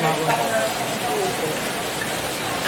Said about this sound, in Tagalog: lakas ng ulan kasi nga may bagyo pa rin